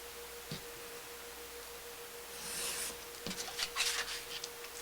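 Paper of a Christmas card being cut with scissors, close and quiet, a couple of sharp snips followed by brief rustling and rubbing of the card.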